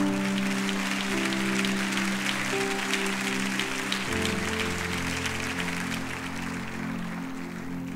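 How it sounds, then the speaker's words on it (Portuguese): Church congregation applauding, a dense continuous wash of clapping from many hands filling the room, with sustained background music tones running beneath it. "Dê a sua melhor salva de palmas ao Senhor Jesus."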